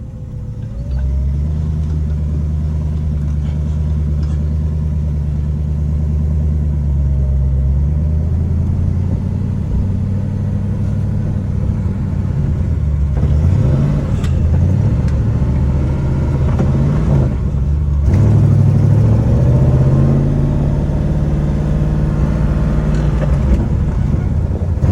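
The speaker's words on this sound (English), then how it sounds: "we are driving a 6-speed manual Blubzki right now" A Blubzki car with a swapped-in 6-speed manual gearbox and slightly sticking brakes drives along, its engine droning steadily up close, pitch climbing and dropping through gear changes, with faint talk inside the cabin.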